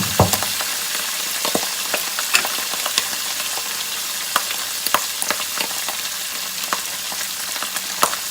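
Red chili, garam masala and other spices fry in hot oil for mutton pulao, a loud, steady sizzle broken by frequent clicks and scrapes of stirring in the pan.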